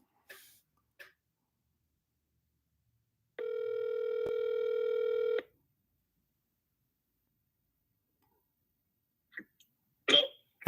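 A phone call placed on speakerphone from a Ford dealership gives a steady, loud dial or ring tone lasting about two seconds, surrounded by silence, with faint clicks and brief noises before and after.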